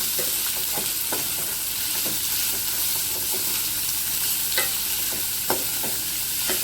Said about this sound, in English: So I'm going to fry this little now.